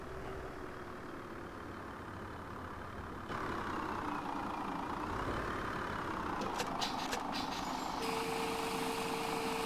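A lorry reversing into a vegetable factory in the video game Farming Simulator 17, its engine humming steadily as a reversing beeper sounds, with a brief run of clattering toward the end and no talking.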